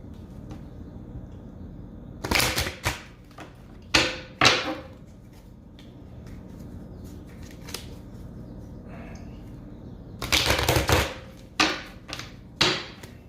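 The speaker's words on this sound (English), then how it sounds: "Let's see if we can shuffle the cards." Bursts of tarot cards being shuffled close by, quick riffling flutters in two clusters separated by quieter handling noise.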